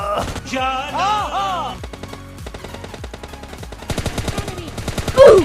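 Video game gunfire crackles as rapid automatic bursts of evenly spaced shots, loud and close, running for several seconds and growing denser toward the end, with a voice talking over the first part.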